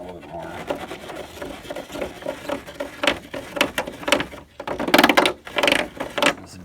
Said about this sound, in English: It's a deburring tool.